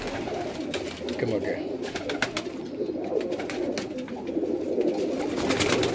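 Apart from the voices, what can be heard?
pigeons cooing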